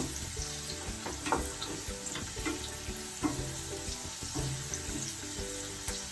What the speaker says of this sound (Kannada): ಮತ್ತೆ ಫ್ರೈ ಮಾಡಬೇಕು